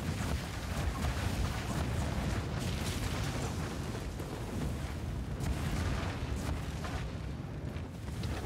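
Roaring fire and rumbling explosions fill a burning fireworks factory in the video game Trek to Yomi, a dense continuous wall of low booms and crackle with scattered bursts, steady and loud throughout.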